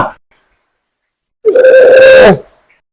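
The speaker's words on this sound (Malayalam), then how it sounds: "ഇന്റെ ഫോൺ അടിക്കുന്ന" A mobile phone rings with a single loud, clear tonal burst of about a second, alone after a brief silence.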